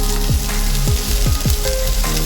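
Finely chopped shallots sautéing in oil, a loud, close, dense sizzle with several quick stirring scrapes, no voices.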